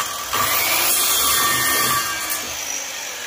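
A hand saw cuts through a piece of wood in short, steady rasping strokes, close and fairly loud, with no one talking.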